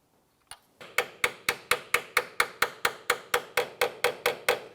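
A 3/8 inch wrench tapped on the rusty hexagon of a ball joint on a 2005-2007 Ford 500, giving one sharp metallic strike and then a long steady run of evenly spaced ringing taps, close and clear.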